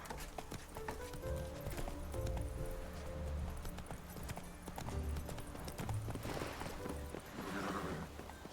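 Hooves of Roach, the horse in The Witcher 3, clip-clop in a steady gait at close range, mixed under sustained game music for the whole stretch.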